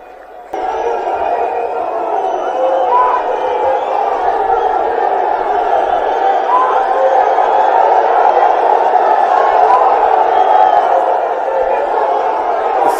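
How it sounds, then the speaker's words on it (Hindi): A large crowd at an AAP rally in Delhi's Ramlila grounds roars and cheers continuously, with loud sustained clapping and shouting after a brief quiet start. "एक बार जोरदार तालियां आप अपने नेता अरविंद केजरीवाल जी के लिए बजा दीजिए।"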